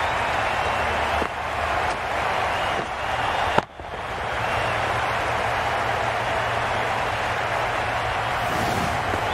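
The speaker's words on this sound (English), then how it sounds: "The crowd are really getting quite raucous." A cricket crowd at a women's T20 match between India and Pakistan, a loud sustained wash of cheering and noise from the stands, with one brief dropout partway through.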